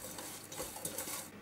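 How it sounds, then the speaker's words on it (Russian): Soft scraping and stirring sounds in a pot, a spoon rubbing through onion mixed with ground spices in quiet, irregular strokes with no talking. "Лук перемешиваю с размолотыми специями."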